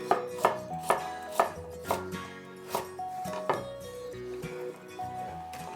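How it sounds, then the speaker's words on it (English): A knife slices peeled carrots into discs on a cutting board, producing a regular series of crisp, close chopping knocks about every half second, slowing slightly toward the end. "I'll cut these carrots in discs, again, same thickness as the onions and the celery."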